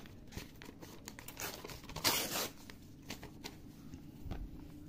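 A sheet of plain unlined paper handled up close, with soft crinkling and rustling, small taps and a brief louder crumple in the middle, no talking.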